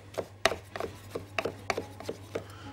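Walnuts chopped by hand with a knife on a board make a rapid series of crisp, close cuts, about a dozen uneven knocks with gritty crunching, no voices.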